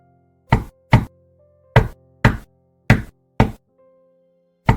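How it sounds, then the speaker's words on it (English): Loud knocking at a door in several sharp bursts of two raps each, separated by short pauses, with a low sustained musical tone underneath and no voices. "Suddenly, they heard loud knocking at the door."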